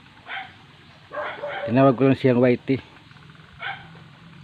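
A dog bathing in a shallow stream gives a few yips and whimpering barks close by, mixed with someone talking over it.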